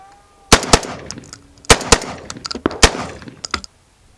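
A Citadel Boss 25 shotgun fires Federal Game Shot 1-ounce number 8 shells, several sharp, loud blasts in an uneven sequence with short echoing tails and mechanical clacks between shots.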